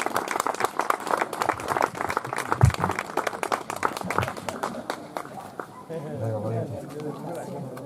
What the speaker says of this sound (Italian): Facete un applauso che mi da emozionata.